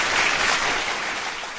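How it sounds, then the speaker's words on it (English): A brief burst of steady, dense applause, loud and continuous for under two seconds with no speech over it. "I'm going to give you a big round of applause for your brutal honesty about yourself."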